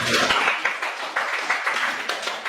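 A classroom full of students claps together after group recitations in a school lesson, a dense, steady patter of many hands lasting a couple of seconds.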